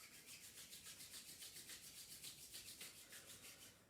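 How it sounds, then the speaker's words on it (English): Two palms rub briskly back and forth in a quick, even rhythm, a soft dry swishing repeated many times, close and quiet with no speech. "Rubbing palms."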